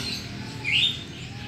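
A young perkutut, or zebra dove, gives a single short call, faint and brief, with no talk around it.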